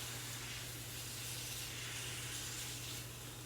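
Cooked spaghetti squash with garlic and shallots hisses in a hot pan as it is mixed, a faint, even, steam-like sizzle throughout with a low hum underneath.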